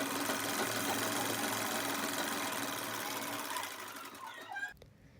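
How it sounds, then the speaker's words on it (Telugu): An electric sewing machine running a steady stitch along a saree hem, a rapid even mechanical whir close by that slows and stops near the end. "ఇప్పుడు ఎమ్మింగ్ పట్టిని సీదా చేసి దాని పైనుండి ఇంకొక స్టిచ్ వేసుకోవాలి."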